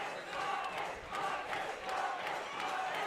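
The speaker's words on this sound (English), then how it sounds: "Listen to this crowd here, Shane." A football crowd at a U18 championship game roars during a field goal attempt, a distant, swelling mass of cheering and shouting that pulses and keeps going through the whole stretch.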